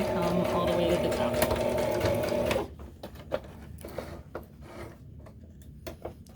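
A sewing machine backstitches a backpack seam in a steady loud run that stops partway, followed by quieter handling noises and soft clicks.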